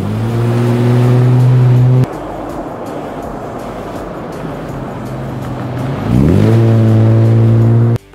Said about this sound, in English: This is braking a lot better than your average CD42 one.